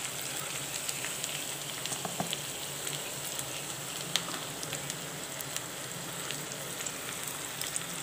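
Ground paste frying in oil in a pan with sautéed eggplant and onion for a horse gram kuzhambu, a faint, steady sizzle with scattered small pops and no talking.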